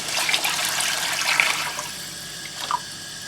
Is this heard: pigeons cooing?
no